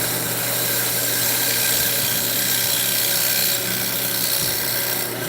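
Big bowl gouge held at a steep sideways angle cutting into spinning wood on a lathe, a steady harsh scraping roar with a constant motor hum underneath, close and continuous.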